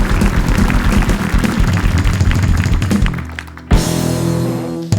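Studio audience on a TV talk show applauding a song performance, dense sustained clapping that fades briefly near the end before a loud burst resumes.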